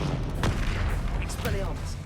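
A Confringo fire-blast spell goes off in the Hogwarts Legacy video game as a dense burst of booming, crackling battle noise that fills the scene, loud and continuous, with a voice talking over it.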